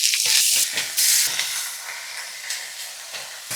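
Steak slices sizzling in a pan with added bacon grease, a loud, steady frying hiss with brief surges near the start, no talking.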